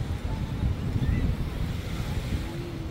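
Ocean waves at high tide on Boracay beach, a continuous low roar of surf mixed with wind buffeting the microphone, moderately loud and steady, with no voices.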